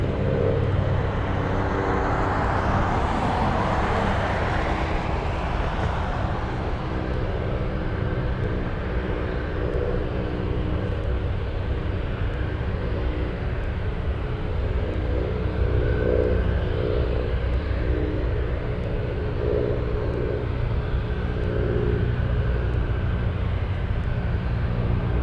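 Heavy cargo aircraft going around at Anchorage airport, a loud sustained jet engine roar that swells early and then holds steady as a broad continuous rumble with no talking.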